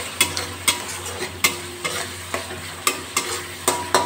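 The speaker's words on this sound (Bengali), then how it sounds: "ছানাটা দিয়ে আমি 1 মিনিট ভালো করে কষিয়ে নেব" Cottage cheese (chhana) stir-fried in spiced oil for begun bahar, with a spatula scraping the pan in a steady rhythm of sharp strokes over a constant close sizzle.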